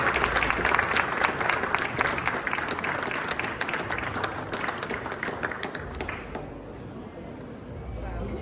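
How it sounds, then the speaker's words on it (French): Audience applause at an awards ceremony for the luxury hospitality trade, a dense steady clapping from a large crowd that carries strongly for about six seconds, then thins and fades toward the end. "Vous venez d'applaudir."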